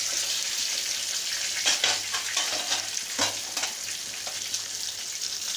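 Onions frying in hot oil in the middle of a pan beside pieces of hilsa fish, a loud, dense crackling sizzle with brief stirring scrapes, steady and close throughout with no voices.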